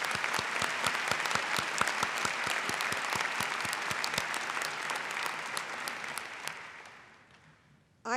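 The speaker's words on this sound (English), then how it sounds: "Another round of applause for those donors." Sustained applause for donors fills a university presidential installation ceremony, with dense clapping from a large audience that holds steady and then tapers off toward the end.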